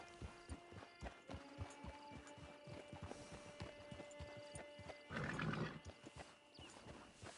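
Horse in the Red Dead Redemption 2 online video game: steady clip-clop of hooves throughout, then a louder neigh or snort burst near the end, over a low hum.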